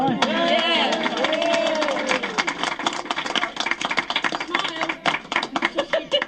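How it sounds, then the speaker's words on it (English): A room of people at a volunteers' party meeting breaks into a round of applause for the chairman, dense clapping that thins into scattered claps, with voices talking over it at the start. "could we have a round of applause for our chairman here?"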